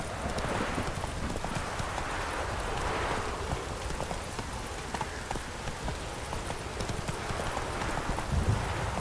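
Galloping horse hooves in The Witcher 3 pound in a steady, fast rhythm over constant ambient noise for the whole stretch, with a brief thud near the end.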